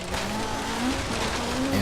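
Engine of a Jägermeister BMW M3 E30 drones steadily while racing in Forza Horizon 3, a close, sustained tone that rises slightly in pitch toward the end.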